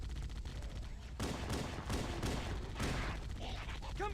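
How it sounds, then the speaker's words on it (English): Heavy gunfire rattles in Halo: Combat Evolved, a dense, loud barrage of overlapping shots and bursts that runs continuously throughout, with sharper cracks standing out around the middle. "Taking heavy fire!"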